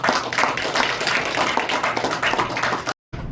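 An audience at an apartment reconstruction briefing claps to welcome a lecturer, bright and full, sustained steadily for about three seconds before breaking off, with a short quieter tail after a brief cut.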